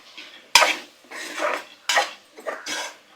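A spoon scrapes and clanks around a pan as chili powder is mixed into ridge gourd curry, in four or five distinct nearby strokes with short pauses between them.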